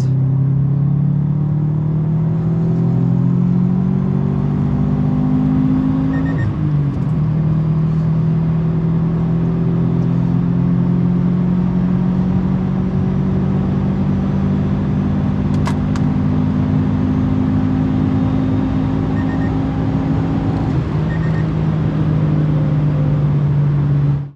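A Subaru WRX STI WR1 running without a silencer accelerates hard from fourth gear, its loud, steady exhaust drone climbing in pitch with a brief break near six seconds, then pulling on continuously.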